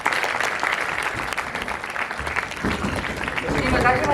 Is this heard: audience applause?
yes